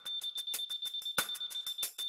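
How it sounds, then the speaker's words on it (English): A Leica Lino L2 laser level detector emits a fast, even run of high electronic beeps about eight per second, loud and close, alone without other sound. "The blue LED display illuminates, and a beep sounds when you find the correct level."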